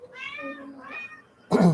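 A cat gives two drawn-out meows in a row, fairly close and clear, followed by a short louder burst of sound at the end.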